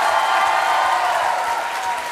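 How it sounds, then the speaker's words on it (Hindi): Dense, continuous applause from a large audience, loud and steady throughout, like a crowd clapping in a hall. "तो ये तालियां बजती रहनी चाहिए।"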